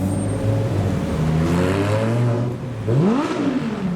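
A Lamborghini Huracan Performante engine revs up and down nearby at a car show, its pitch rising and falling, with a sharp climbing rev near the end.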